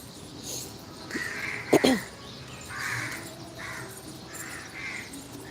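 Crows cawing outdoors in the morning, a few harsh calls spread out, one loud and near, others fainter in the distance.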